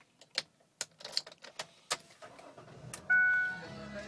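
A 2006 Ford Freestar minivan, heard close up: a few soft clicks and knocks, then the engine cranks and catches, settling into a steady, loud idle hum.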